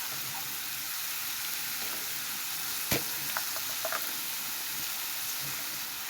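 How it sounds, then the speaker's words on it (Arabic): Onions cooking in fat give off a loud, continuous sizzling hiss. A few sharp clicks and light spatula scrapes break through the frying noise. "الاول هدبل البصل،"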